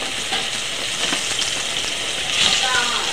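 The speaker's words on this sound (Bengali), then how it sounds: "আলুগুলো ফোড়নের মধ্যে দিয়ে দেবো। সাথে ডাঁটা কেটে রেখেছিলাম, সজনার ডাঁটাটাও দিয়ে দেবো।" Potato pieces and drumstick (moringa) pieces sizzling loudly in hot oil with spice tempering, a steady dense frying hiss throughout with a brief swell near the end, close up with no talk.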